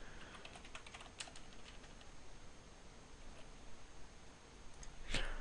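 Java code is typed on a computer keyboard, with quiet, close clicking keystrokes in irregular bursts over faint background hiss and a louder clack near the end.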